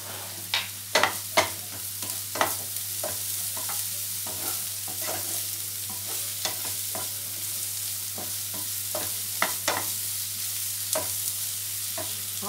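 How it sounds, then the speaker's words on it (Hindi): Onion frying in a small amount of oil with garlic and ginger just added, sizzling steadily while a spoon scrapes and stirs in irregular clicks, close and without talk. "प्याज फ्राई हो गया है, इसमें हम लहसुन अदरक डाल देते हैं।"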